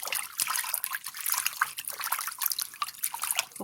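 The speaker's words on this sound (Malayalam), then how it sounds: "ഇങ്ങനെ വെള്ളം പൈപ്പിൽ നിന്ന് എടുത്തിട്ട് ഇതിനകത്ത് ഒഴിച്ച് കഴുകുക." Tap water is poured into a bowl to wash fish pieces for a Kerala-style fish pickle, giving a close, bright trickle and splashing that runs continuously with small irregular drips.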